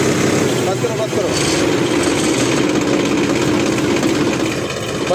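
Loud, steady engine drone from a Massey Ferguson 7250 tractor with a hydraulic gear-oil leak as the accelerator is lightly pressed, a continuous close rumble that holds without clear revving peaks and has someone talking over it.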